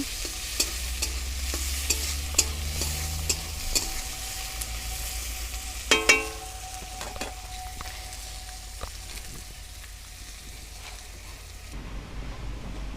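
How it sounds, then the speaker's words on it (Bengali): Oil sizzles steadily as chopped onions fry for a rohu fish dish, with occasional scraping from stirring and a brief metallic clatter midway; no voices. "পেঁয়াজগুলো বেশ ভাজা ভাজা হবে"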